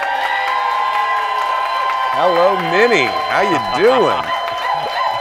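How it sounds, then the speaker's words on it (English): Studio audience applauding and cheering for a guest on a talk show, a steady crowd roar throughout while a voice talks over it. "a Minnesota applause is delightful"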